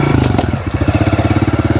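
A 2022 Honda CRF125F motorcycle engine revs while riding, dipping briefly as a gear is shifted, then settling into a loud, steady, pulsing putter close by.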